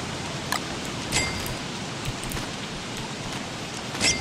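Steady rain falling in the Don't Starve game world, a soft constant hiss with occasional faint clicks and rustles, no talking.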